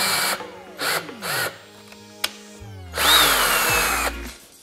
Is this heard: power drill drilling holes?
yes